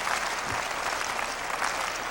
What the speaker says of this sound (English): The audience is starting to clap.